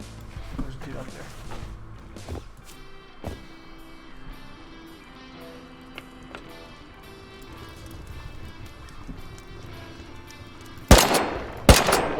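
Gunfire in the survival video game Rust: scattered single shots early on, then a loud close burst near the end, with a player talking over the action.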